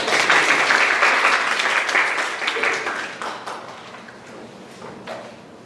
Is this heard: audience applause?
yes